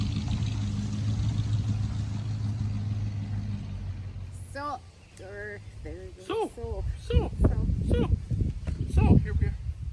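An old 1960s Chevy driving past at a campground, a low engine rumble for a few seconds that fades out, followed by people talking and other nearby sounds.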